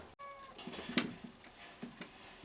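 A faint, short cat meow in a quiet room, with a few soft clicks and rustles around it.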